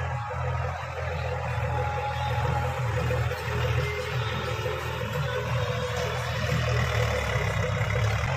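Swaraj 735 tractor driving at full speed pulling a toi (hearo) in Rajasthan, a steady loud low engine drone with continuous rumble and no break across the whole stretch.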